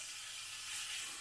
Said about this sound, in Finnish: aloitin sitten pekonin paistamisen